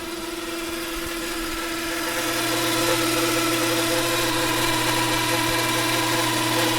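Hammond M101 organ with its motor running and a rod spinning inside, a steady mechanical hum and whir with a low tonal drone that grows slightly louder partway through, continuous and close, no talking.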